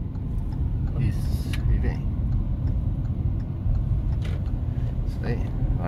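A car accelerating onto a straight road during a driving lesson, heard from inside as a steady, loud engine and road rumble, while people talk over it.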